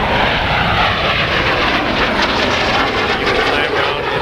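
A vintage bomber's piston engines at the Yankee Air Museum drone loudly and steadily from inside the aircraft, a dense continuous roar with a voice talking faintly beneath it.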